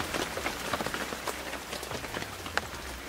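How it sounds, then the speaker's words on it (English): Steady rain falling on Table Rock Lake during a bass fishing tournament, a dense continuous hiss of drops on the water with scattered sharper patters, close and fairly even throughout. "It's raining."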